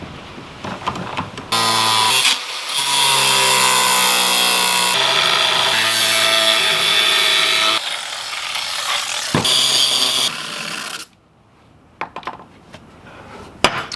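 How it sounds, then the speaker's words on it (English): A power tool cuts old steel bed frame pieces clamped down for a welding cart. The loud, sustained whining cut runs in long stretches, with brief dips and pauses between passes, and nobody speaks. "Now I just got to clamp it down and cut it."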